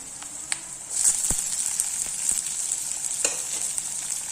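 Onions sautéing in a hot pan for a South Indian curry, a steady bright sizzle close to the mic with a few clicks and scrapes of stirring scattered throughout.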